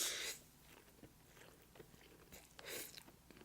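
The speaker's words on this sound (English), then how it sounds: "I need another bite out of this." Someone bites into and chews Cajun shrimp jambalaya pasta close to the mic, giving a few soft, moist chewing sounds with small crunchy peaks in a quiet room.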